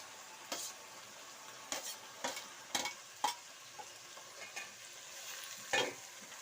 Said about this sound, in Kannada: ಟೊಮೆಟೊ ಎಲ್ಲ ಚೆನ್ನಾಗಿ ಫ್ರೈ ಆಗಲಿ